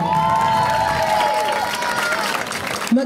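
A crowd at a school homecoming applauds and cheers loudly: dense continuous clapping with shouts and cheering voices mixed in, near and sustained for the whole stretch.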